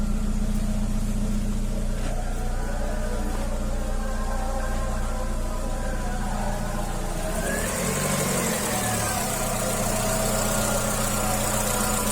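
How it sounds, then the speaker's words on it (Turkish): A 1.4 engine running on LPG idles steadily and close by, its fuel injectors ticking in a fast, even rhythm over a low mechanical hum, with no talking. "enjektörlerin sesleri. Bunlar böyle normal çalışması bu şekildeymiş"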